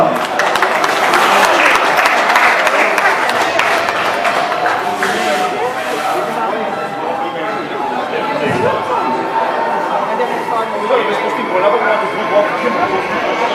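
After the final bout of a boxing finals event, the crowd applauds loudly at first, then the clapping thins into scattered claps and chatter around the hall, with a steady tone and voices beneath.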